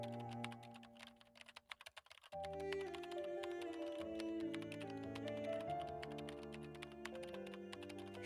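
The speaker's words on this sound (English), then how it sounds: "I feel like I've been typing forever." Rapid typing on a computer keyboard in the Nancy Drew: Curse of Blackmoor Manor adventure game, a short burst of crisp close key taps before soft background music takes over.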